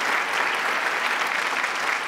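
A studio audience at a Marathi comedy show bursts into loud, dense, continuous clapping that holds evenly throughout.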